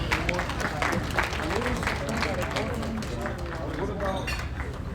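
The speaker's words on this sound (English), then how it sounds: "Give him a round of applause." A convention audience claps in a continuous, dense round of applause, moderately loud and steady for the whole stretch, with some crowd murmur mixed in.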